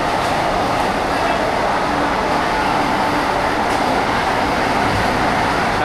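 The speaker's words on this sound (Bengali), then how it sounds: "এখান থেকে কিন্তু পাস হচ্ছে আরও একটা অমৃত ভারত এক্সপ্রেস" An Amrit Bharat Express passenger train rolls past a crowded station platform, a loud, steady broadband roar of wheels and carriages that fills the whole stretch without letting up.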